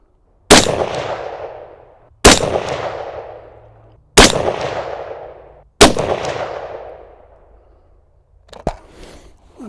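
A suppressed Ruger SFAR rifle on a hunting range in Sweden fires four evenly spaced, loud cracks, each with a fading echo, followed by a softer final shot.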